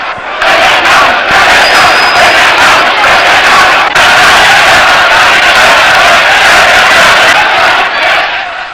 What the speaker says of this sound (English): They are cheering this man.